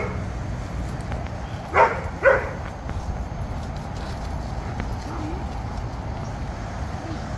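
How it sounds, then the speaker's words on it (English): A dog gives two sharp barks close together, loud against a steady outdoor background with other dogs around, then the scene goes back to ambient noise. "That's Suri barking."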